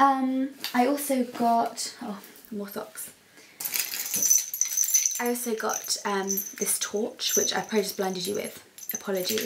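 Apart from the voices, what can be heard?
keys jangling on a torch keyring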